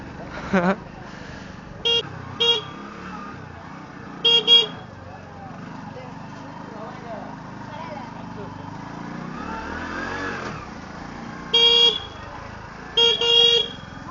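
Car horns honk in short bursts over a steady rumble of road traffic, with a vehicle passing closer midway through.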